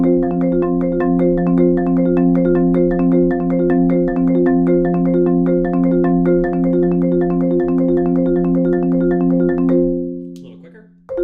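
A marimba plays a gallop exercise in double laterals and verticals, a rapid, even stream of close, ringing mallet strokes on sustained tones that stops near the end.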